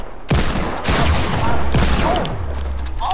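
Gunfire erupts in the video game Apex Legends, with loud, close bursts of rapid shots crowding together over about three seconds, each onset hard and sharp.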